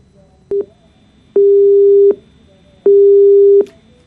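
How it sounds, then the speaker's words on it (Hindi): Telephone busy tone after a call is hung up on a news broadcast: a short blip, then two long steady beeps separated by silence, loud and clear with no talking over them. "तो लक्ष्मी बघेल जो प्रिंसिपल है, उन्होंने हमारा फोन काट दिया"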